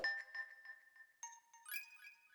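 Bright mallet tones ring out in a gentle melodic pattern, a marimba blended with bell-like chimes that sustain and shimmer, clear and close with no voices.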